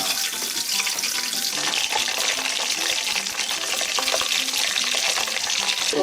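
Crushed garlic and Ishigaki sea bream fry in a hot pan for an acqua pazza, a dense steady sizzle and crackle close up with scattered small pops and scrapes and no talking.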